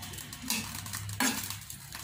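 A spatula clinking against a pan while stir-frying ivy gourd and green chillies, two brief metallic scrapes over a low hum, close and quiet.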